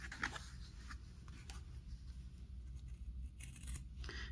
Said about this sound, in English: using a nice sharp pair of scissors, I'm just going to trim and cut out along that cutting line.